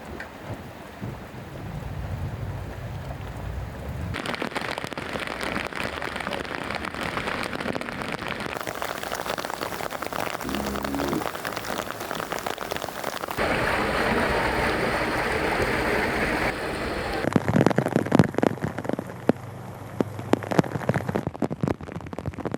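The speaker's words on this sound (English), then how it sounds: "First came some biblical rain that reduced visibility to nothing." Heavy downpour and thunder over open water at a sailing race course during the America's Cup Challenger trials: a continuous rain hiss that shifts in texture, with low rumbles and crackling, gusty bursts toward the end.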